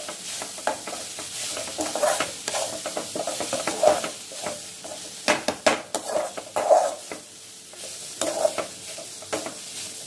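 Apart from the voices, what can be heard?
stirring food in a pan after adding asafoetida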